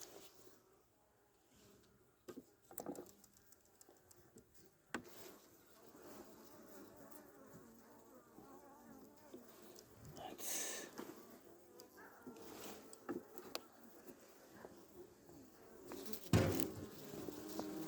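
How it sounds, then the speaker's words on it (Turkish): Honeybees hum in a low, steady buzz close by in an opened hive during an early spring check, with occasional soft knocks and handling noises. "Arılar balın üzerindeler."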